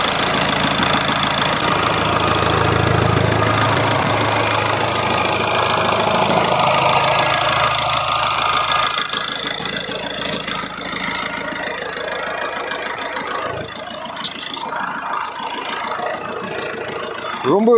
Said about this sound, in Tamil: இப்போ வண்டியோட இன்ஜின் நாய்ஸ் நான் உங்களுக்கு மைக்கு பக்கத்தில் வச்சு காட்டுறேன்